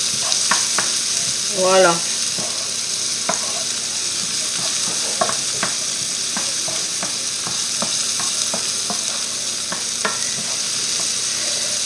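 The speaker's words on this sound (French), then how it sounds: "On fait revenir nos oignons à peu près" Onions sautéing in a pan for a coconut curry chicken, a steady close sizzle broken by repeated stirring scrapes and utensil taps, with a brief spoken word.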